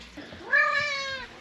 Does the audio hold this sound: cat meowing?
yes